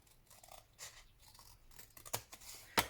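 Scissors cut through a piece of paper card on a punch board with a few soft scraping snips, ending in two crisp, louder snaps close by.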